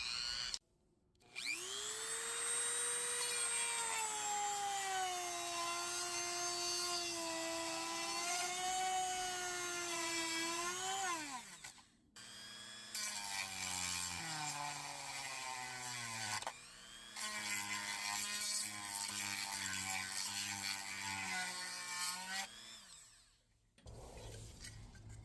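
Power tools in a mechanical workshop cut into a plastic Warhammer 40K Ork tank model. The high rotary whine rises and wavers over several long bursts, separated by short pauses.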